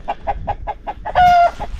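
Backyard hens cluck in a steady rhythm of short repeated calls, close by, with one longer drawn-out squawk rising partway through.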